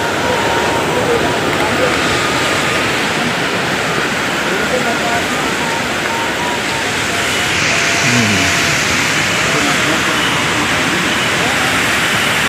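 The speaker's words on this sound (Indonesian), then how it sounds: "suara gemuruh air udah kedengar dari dekat" Roaring water of the upstream Cijalu river, a steady broad rushing roar heard nearby from a steep trail, constant and loud throughout.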